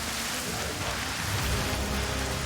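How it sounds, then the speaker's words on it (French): Heavy rain pours down steadily on an outdoor island camp during a survival competition, a dense, unbroken hiss of drops across the whole stretch with no voices. "Il pleut tout le temps."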